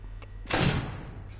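A door in the Five Nights at Freddy's video game slams shut with one loud, heavy metallic bang that fades into a short ring, preceded by faint clicks.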